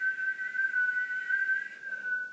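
A person whistles a single, steady, sustained note held for nearly two seconds, then shifts briefly to a slightly lower pitch as the tone fades.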